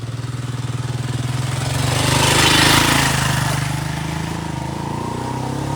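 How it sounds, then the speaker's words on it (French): A motorcycle passes by on a street, its engine droning steadily, swelling louder as it nears at mid-clip and fading as it moves away, heard alone without talk. "Attendez, la moto va passer."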